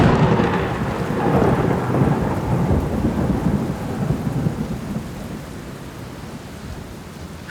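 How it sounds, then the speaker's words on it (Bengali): A Kalbaishakhi thunderstorm over a city brings a loud, rolling rumble of thunder over heavy rain, swelling early and then slowly fading beneath a steady downpour. "সময়ের আগেই চৈত্র শেষের কালবৈশাখীতে শহর ভেসে যাচ্ছিল।"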